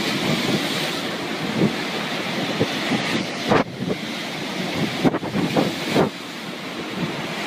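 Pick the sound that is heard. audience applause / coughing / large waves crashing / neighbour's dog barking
large waves crashing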